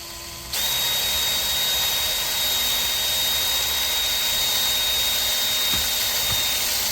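A power drill boring into an aluminum vertical blind headrail, starting abruptly and then running as a steady loud whine with no pauses and no talk.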